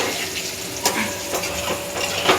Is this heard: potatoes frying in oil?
yes